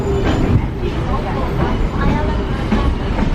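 Continuous rumbling and rattling of a Hobo Railroad excursion train ride in Lincoln, New Hampshire, steady and close throughout, with faint clickety-clack and jostling noises from the moving car.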